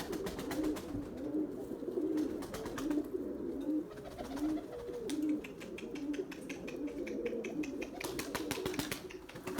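Soft, repeated coos of Erzurum White pigeons in a low rolling rhythm, with occasional light tapping and clatter in the background.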